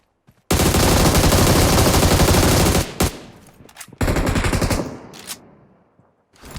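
Automatic gunfire in the mobile battle royale game PUBG Mobile rips out in a long, loud continuous burst, then breaks into shorter sharp volleys after a brief gap, with faint quieter shots near the end.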